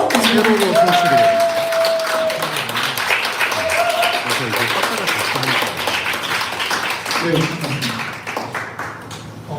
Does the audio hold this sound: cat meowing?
no